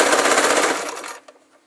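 A sewing machine runs a quick back stitch on a fabric pencil pouch, a fast loud buzzing rattle of the needle for about a second before it stops, followed by faint clicks.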